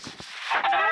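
A video game chicken clucks briefly, then a louder, drawn-out squawk rises over a couple of soft thumps.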